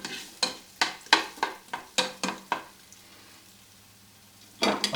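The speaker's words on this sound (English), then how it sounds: "the onions are starting to heat up now and starting to saute" Chopped onions sautéing in a pot for a hamburger cowboy stew, with a run of sharp utensil stirring scrapes over a quiet sizzle, a pause of soft frying, then more stirring at the end.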